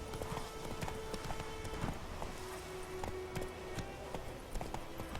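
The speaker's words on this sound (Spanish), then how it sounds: "Aguanta lo suyo el caballo corriendo" A horse gallops in The Witcher 3, its hooves striking a quick, rhythmic clip-clop at moderate volume over a faint game soundscape.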